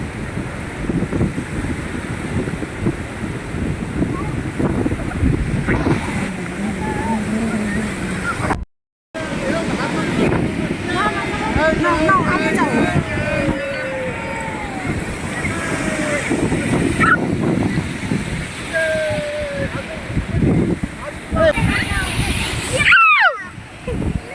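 Sea waves washing in at a beach while a family splashes in the surf, a loud, continuous rush of water and wind noise with voices talking and shouting throughout.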